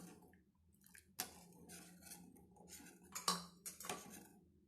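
Condensed milk and sugar being stirred together in a vessel for kulfi, with spoon scrapes and clinks against the container, a few sharper knocks standing out over a soft, wet mixing texture.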